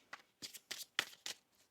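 A deck of tarot cards is shuffled in several quick riffling bursts, crisp and close, with short pauses between them and no talking.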